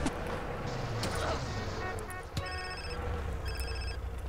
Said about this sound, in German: Ja, wir haben hier einen Telefonanruf.